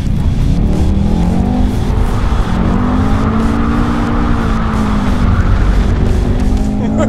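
Audi RS6 or Mercedes-AMG E63S sliding around a track, loud steady engine roar with rising and falling pitch and intermittent tire squeal throughout.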